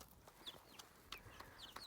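Chickens on a small backyard poultry farm cluck softly in a few brief, scattered calls, faint and somewhat distant over quiet outdoor background, with no talk.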